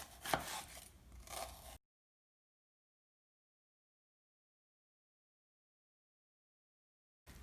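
Knife making quick downward cuts through an onion on a board, a short burst of rapid chopping taps up close, then silence with a brief return at the end.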